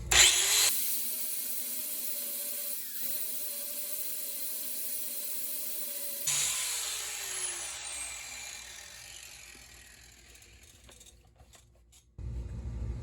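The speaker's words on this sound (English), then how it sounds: "So I'm going to take the rims off, do a quick grind down, and put them back on." A power grinder works on the wheel rims of a 1969 VW Bug. A harsh, steady, high-pitched grind runs for several seconds, then the whine drops and winds down before the tool starts up again at the end.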